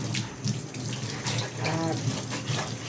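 Tap water runs steadily into a kitchen sink while a strainer is rinsed under it, a close, continuous splashing with small shifts in flow as the strainer moves through the stream.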